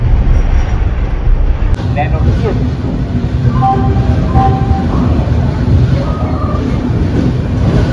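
The Gitanjali Express rumbles loudly as it rolls into Kharagpur station, with high metallic brake squeals rising briefly over the steady clatter.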